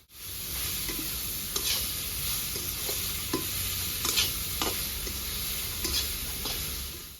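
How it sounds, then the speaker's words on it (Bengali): Sliced onions and potatoes fry in a pan for a spicy morola fish curry, a steady close sizzle broken by repeated scraping clinks of a spatula stirring through the mix. "আলুর সঙ্গে এবার কেটে রাখা পেঁয়াজ দিয়ে দেবো"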